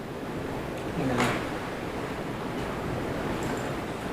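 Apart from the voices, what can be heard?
strong wind blowing outdoors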